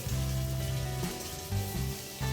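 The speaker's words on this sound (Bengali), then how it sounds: "আমি ডিমগুলোর সাথে সাথে আলুগুলোকেও কড়া করে ভেজে নেব" Potatoes frying crisp in a pan after eggs, for a quick Bengali-style biryani: a steady, fairly loud sizzle throughout, with a tonal hum running underneath and small shifts in intensity.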